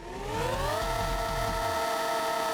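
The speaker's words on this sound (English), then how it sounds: "That's the sound of a drift." Whining engine revs climb and hold steady as tires squeal in a sustained skid, loud and continuous, with rapid fluttering low pulses underneath.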